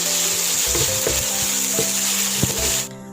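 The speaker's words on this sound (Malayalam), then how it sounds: "ഇനിയിപ്പോൾ ഇതിൽ കിടന്നിട്ട് അതൊന്ന് ലേശം കൂടുതൽ ഫ്രൈ ആവട്ടെ." Pathila (colocasia) leaves frying in oil in a pan for thoran, a steady close sizzle with occasional stirring clicks and pops, cutting off abruptly near the end.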